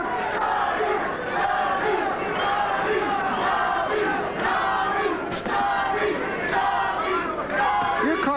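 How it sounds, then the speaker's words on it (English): A boxing arena crowd at a super flyweight bout chants the fighter's name, Johnny, in loud, rhythmic massed voices that surge and repeat over a constant roar of cheering and chatter. "Crowd takes up the chant,"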